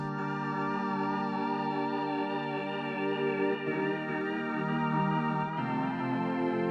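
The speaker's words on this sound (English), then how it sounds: "we have a chord element, which is a organ from Farfista" Sustained Farfisa organ chords hold a bright, reedy drone with a slight chorus wobble, steady and loud, shifting chords partway through, alone and without talk.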